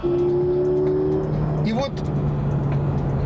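A Peugeot RCZ sports car revs and accelerates, its exhaust giving a loud, rising engine note that climbs in pitch mid-clip, while someone talks over it.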